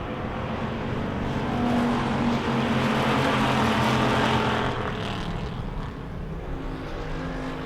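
Wissota pure stock cars race on a dirt oval, engines roaring loud and steady as a pack passes close, the drone swelling and easing over several seconds with no talk.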